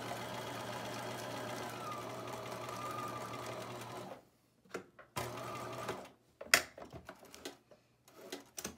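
A sewing machine runs a straight stitch along an apron's arm facing, a steady close whirring hum for several seconds, then stopping and starting in short bursts with pauses between.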